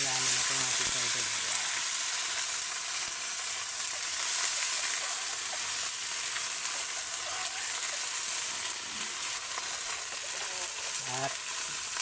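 Vegetables for a lemongrass-scented bulanglang hit a hot pan and sizzle steadily, a loud continuous hiss with faint stirring clatter throughout.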